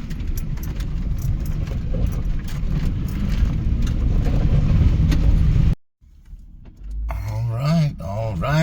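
A car on Highway 17 in New Mexico, heading east from Chama, runs with a steady engine and road rumble. The sound cuts out abruptly near the end, then a quieter engine hum returns with a voice over it.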